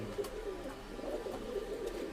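Pigeons cooing in a loft of Oman teddy pigeons, soft repeated low coos at an even rhythm, close but quiet with no talk.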